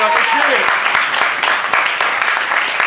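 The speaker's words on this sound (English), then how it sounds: "thank you for clapping up" Festival audience applauding at a live show in New York, a steady dense wash of clapping that fills the whole stretch, with a voice briefly audible near the start.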